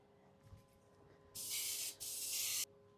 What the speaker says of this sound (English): spray them with a little bit of spray